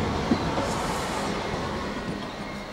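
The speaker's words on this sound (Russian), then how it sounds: "трамвай" A tram rolls past along a street lined with a bicycle stand and trees, its wheels rumbling steadily on the rails at close range throughout, with no talking.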